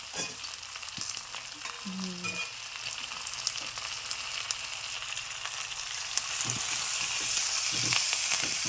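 Steady crackling sizzle of curry leaves frying in hot oil, close and continuous, growing slightly louder toward the end with no voices.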